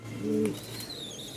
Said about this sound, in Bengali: আর এগুলো হচ্ছে রাজশাহীর রুলার কবুতর